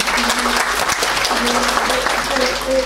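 An audience claps together for a mobile veterinary clinic, a dense, loud burst of applause lasting the whole moment, with faint voices and tonal hum mixed beneath.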